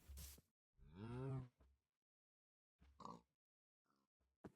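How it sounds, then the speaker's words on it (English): Cows mooing in Minecraft, a loud drawn-out moo followed by a few short grunting lows and snorts, close and clear against silence. "Boy, looks like we have some cliff cows over here."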